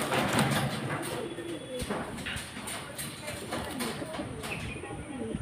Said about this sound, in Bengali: এই যে পাঞ্জা পায়রা, সব বন্ধ লেজের পায়রা